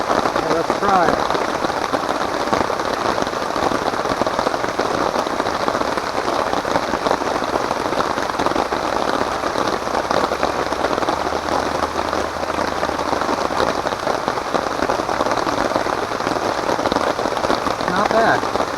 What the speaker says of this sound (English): Yep, starting to rain.